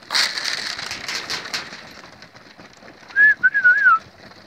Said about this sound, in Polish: Nie wiem, to na pewno nie jest mój gołąb.